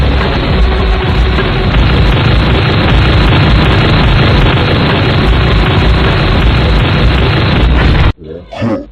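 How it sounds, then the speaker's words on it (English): A loud machine gun in a Madness Combat animation fires continuously in a dense, distorted roar for about eight seconds, then cuts off and a voice speaks briefly. "I'm gonna make you listen to this loud machine gun."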